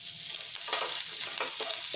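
Green chillies and curry leaves crackle and sizzle in hot oil with mustard seeds and cumin, a steady close frying hiss with a few brief sharper pops, and no voices.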